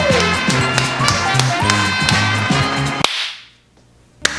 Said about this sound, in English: Am I the only one clapping?